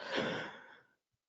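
A single breathy yawn from a man, close to the microphone, rising to a peak and then fading out into silence within about a second.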